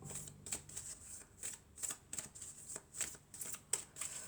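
Oracle cards of the Triade deck are shuffled in quick, repeated riffling bursts, close and fairly quiet, with no talking.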